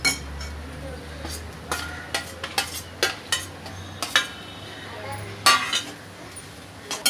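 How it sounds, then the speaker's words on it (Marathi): A spoon stirs grated coconut through poha in a pan, giving irregular metallic clinks and scrapes against the pan over a low steady hum, with no talking. "तर खोबरं आपण चांगलं पोह्यांमध्ये मिक्स करून घेऊया"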